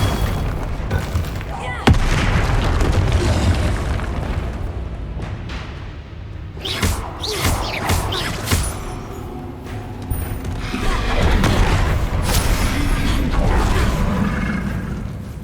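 Spell blasts from Confringo and Bombarda in the Hogwarts Legacy video game, booming and cracking in several bursts through a busy stretch of game noise, with mechanical creaks between the hits.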